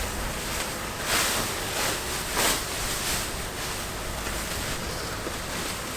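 Wind blowing outdoors on a cold day, buffeting the microphone in a broad rushing roar that swells in gusts, with no voices.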